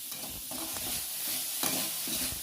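Onions and tomatoes being sautéed for a fish curry masala in a clay pot, sizzling faintly and steadily while being stirred, with soft scraping strokes and no talk.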